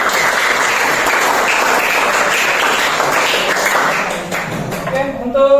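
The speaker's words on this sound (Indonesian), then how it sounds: "tepuk tangan untuk kita" A classroom of students in a vocational school lesson bursts into dense, sustained clapping that fades toward the end as voices begin to rise.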